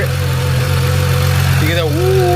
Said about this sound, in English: just let it idle for a little while. Don't rev it yet.